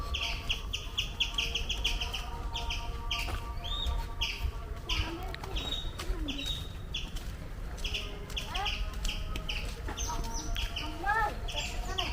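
Chickens cluck and chirp in short bursts throughout, with a rooster-like call now and then, over steady low background noise.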